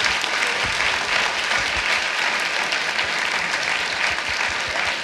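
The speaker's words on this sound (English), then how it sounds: "Please give my brilliant colleagues a round of applause for their time." An audience at a San Francisco Public Library panel on privacy claps for the panelists, a steady, moderately distant wash of applause with scattered sharper hand claps and no talk.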